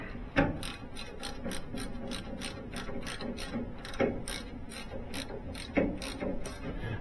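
A wrench clicks in a fast, steady ratcheting rhythm while working on a Ford Model T kingpin, close up and fairly quiet, with no talking over it.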